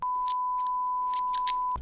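Inexpensive unbranded barber scissors snip several times in quick, uneven succession, the crisp close metallic clicks sounding alongside a steady electronic tone.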